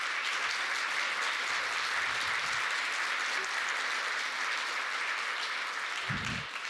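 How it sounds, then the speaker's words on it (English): An audience applauds a group of people at a community gathering. The clapping is steady and fairly distant, holding evenly through, with a few low thumps underneath and a slight fade at the close. "I just want a round of applause for this group of people"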